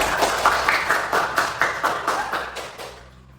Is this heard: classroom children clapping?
yes